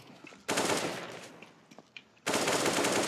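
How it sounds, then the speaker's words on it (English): Sustained SMG fire in a competitive esports shooter match, with two loud continuous bursts of rapid automatic gunfire separated by a quieter stretch of scattered distant shots. "just with the SMG, he will probably shred through these players"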